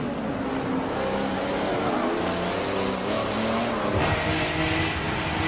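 Race car engine in Forza Motorsport 7: a loud, continuous revving drone rising and falling in pitch, close and unbroken, with a surge of acceleration near the end and no voices.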